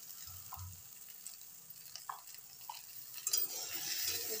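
Bhindi (okra) sabzi being stirred in a pan with salt and turmeric, a steady frying sizzle under soft scraping strokes and a few light clinks of the spoon against the metal.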